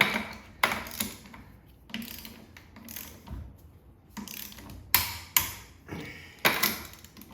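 A ratchet with a 3/4 inch socket turns lug nuts on an off-road race vehicle, making close, quiet bursts of ratcheting clicks separated by pauses and a few sharper knocks.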